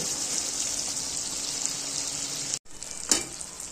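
Mutton pieces fry in oil in a pan for a village-style curry, making a loud, steady sizzle while they are stirred. The sizzle cuts out for a moment, then resumes with a brief scraping stir.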